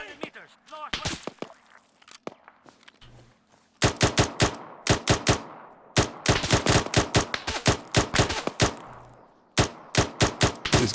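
Enemy machine gun fire rattles in the Arma 3 Antistasi video game, with scattered shots early, then loud rapid bursts of automatic fire that repeat in clusters through most of the stretch.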